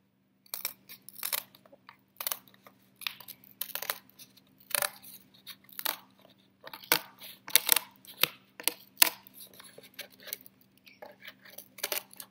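Scissors snip through paper to cut out a rough tree shape for an Earth Day craft, producing a steady series of close, crisp cutting clicks and rustles at an irregular rhythm, with no talking.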